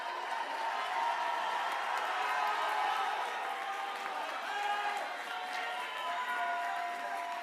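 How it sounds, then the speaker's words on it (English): Graduation audience at a class of 2026 ceremony applauding the seniors after the tassel turn, a steady wash of crowd clapping with scattered cheers and whoops throughout. "Let's give them a clap."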